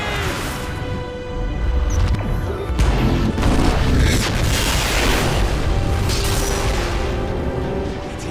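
Explosion aftermath in the video game Titanfall 2: a loud, sustained rumbling roar with crashing debris and low booming that swells around two to four seconds and holds steady throughout.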